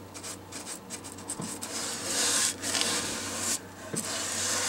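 A paintbrush rubs back and forth into the corners of a DIY wooden vanity, giving soft, close scratchy strokes in an uneven rhythm over a low background hum.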